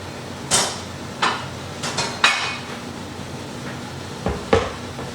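Salmon is lifted out of an air fryer amid a handful of sharp metallic clinks and clatters, like a basket or utensils knocking, spaced irregularly over a quiet kitchen background.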